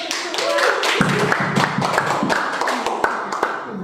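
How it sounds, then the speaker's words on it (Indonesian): A small group of teachers in a community learning session claps hands together, sharp uneven claps mixed with voices and chatter in a room. "Ramai ini tepuk tangan dong."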